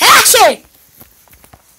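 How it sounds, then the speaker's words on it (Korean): A single sharp, loud human sneeze at close range, about half a second long, followed by quiet room sounds and a brief spoken word. "사람들이 저번 재채기하는 거 보면 다 가짜 재채기래"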